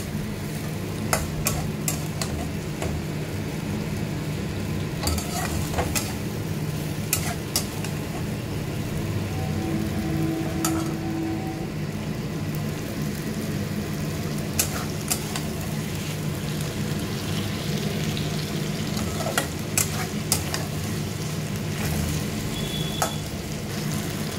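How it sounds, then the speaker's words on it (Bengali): Paneer being sautéed in oil with a ginger, tomato and green chili paste, giving a steady low sizzle with occasional stirring clicks and scrapes throughout, no voices. "মশলাটার মধ্যে দিয়েছি আদা, টমেটো আর কাঁচা লঙ্কা পেস্ট দিয়ে পনিরটাকে ভালো করে কষিয়ে নেব"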